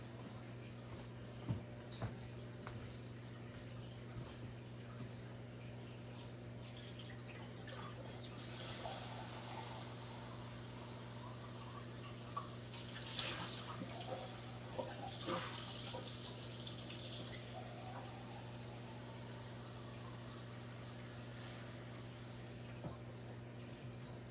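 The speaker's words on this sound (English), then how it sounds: "I gotta get some more water here." A tap runs in a steady, faint stream for about fifteen seconds while someone gathers water for painting a rock, starting and stopping abruptly over a low background hum.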